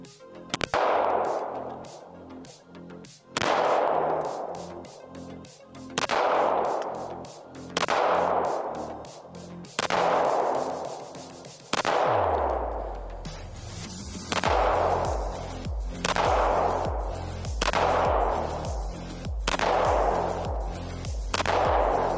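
An FN High Power pistol fires a string of sharp, loud single shots spaced a second or two apart, with some shots coming in quicker pairs and each crack ringing out outdoors, no talk.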